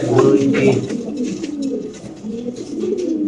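Fancy pigeons at a pigeon farm coo steadily in throaty, overlapping calls, close and fairly loud, with a voice talking over the birds.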